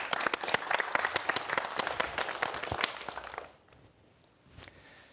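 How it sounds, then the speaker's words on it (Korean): An audience applauds a lecturer at a talk on robotics, a few seconds of brisk, fairly close hand clapping that fades out abruptly, leaving a near-silent room with a faint shuffle. "박수 부탁드립니다"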